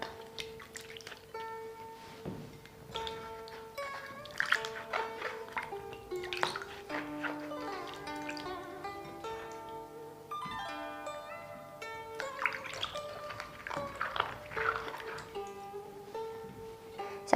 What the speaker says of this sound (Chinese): 所以一定要把橘子呢仔细的清洗干净